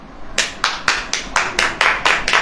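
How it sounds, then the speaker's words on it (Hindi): Audience hands clap in a steady rhythm during a Hindi church sermon, about eight crisp, evenly spaced claps at close range with no voices over them. "ताली वाली बजेगी कि नहीं?"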